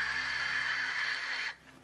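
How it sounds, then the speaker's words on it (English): Wind noise recorded by the Huygens probe while it descended by parachute through Titan's atmosphere: a steady, hissing rush that cuts off abruptly into near quiet after about a second and a half. "what you hear is mostly wind noise as the parachute's descending through the atmosphere"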